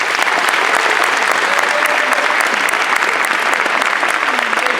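A crowd at the Edgren High School Class of 2015 graduation gives a special group of seniors a round of applause: a dense, loud, continuous clapping that stays even from start to finish.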